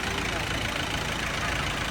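A Trade Impex 55 horsepower tractor engine idles with a dense, steady roar that holds constant throughout, loud and close.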